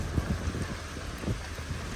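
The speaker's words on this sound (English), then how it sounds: "Lightning, thunder," Steady rain hiss fills the air with low, muffled rumbles of distant thunder rolling underneath, faint and continuous.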